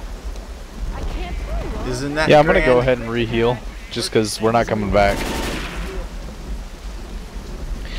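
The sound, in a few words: storm with rain and thunder in video game Left 4 Dead 2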